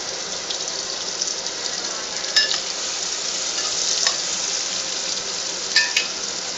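Onions sizzle steadily in a hot pan for a dry peas and brinjal curry, a continuous close frying hiss with a few sharp scrapes of a stirring spoon against the pan.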